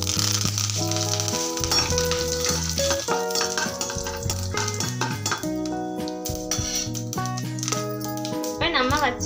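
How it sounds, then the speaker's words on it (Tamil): Curry leaves tossed into hot oil after mustard seeds have popped, for a dried fish curry, producing a loud crackling sizzle with spattering bursts and utensil clinks, with a voice talking over it. "கடுகு நல்லா பொரிஞ்சிச்சு இந்த ஸ்டேஜ்ல நம்ம கொஞ்சம் கருவேப்பிலை"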